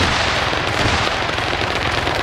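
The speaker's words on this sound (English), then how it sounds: "he's shooting at me from bushes, like, in full ghillie." Dense, continuous automatic gunfire from ARMA 3 infantry combat, rapid overlapping bursts filling the whole stretch at steady loudness with no pauses.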